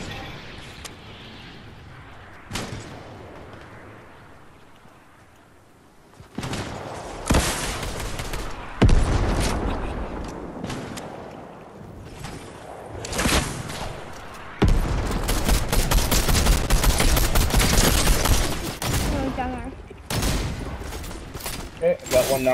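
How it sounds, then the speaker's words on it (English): Rocket fire and explosions in the Fortnite video game, bursts of booming blasts and rapid gunfire building to a loud sustained barrage, with players talking at times. "They're shooting rockets at us."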